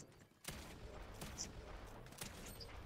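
Rapid bursts of gunfire in the battle royale game Fortnite, a sharp volley kicking in after a brief lull and continuing as scattered distant shots, fairly quiet overall.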